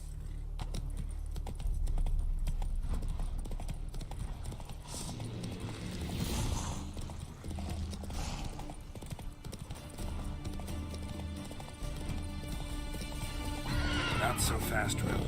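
Roach, the horse in The Witcher 3 video game, gallops with rapid rhythmic hoofbeats and whinnies, while a person talks over the game sounds.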